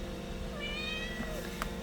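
An indoor house cat meows to be let outside, a single drawn-out rising and falling call in the middle of a quiet room with a low steady background hum.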